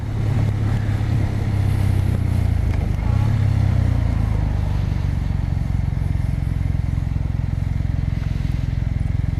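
A 2019 Kawasaki W800 motorcycle riding at slow speed, its engine a steady, loud, close drone with a slight easing of revs partway through, with no talking.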